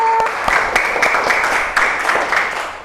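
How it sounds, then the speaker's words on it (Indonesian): Applause from a class of students and their teacher in a classroom, a steady roomful of clapping hands that fills the whole clip with no talk over it. "Tepuk tangan untuk kelompok"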